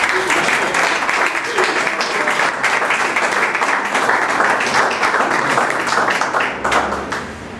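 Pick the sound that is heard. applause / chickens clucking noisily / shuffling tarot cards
applause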